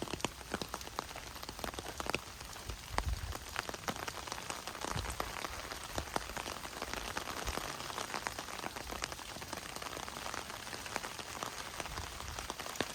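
Rain falls steadily on the grounds of a 1930s Mediterranean-style garden estate, a dense, even patter of drops on leaves and surfaces that continues throughout without speech.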